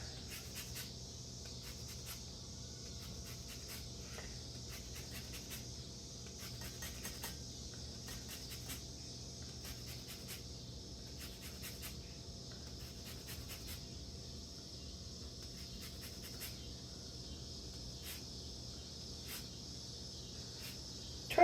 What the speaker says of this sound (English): Sorry about the cicada sound in the background.